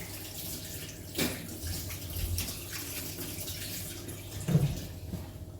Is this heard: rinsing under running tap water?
yes